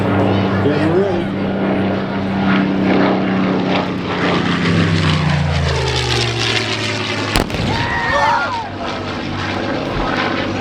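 A P-63 warbird's propeller engine drones loudly as it passes at the Camarillo airshow in 2025, the pitch sweeping downward with the pass. Crowd and voices sit underneath.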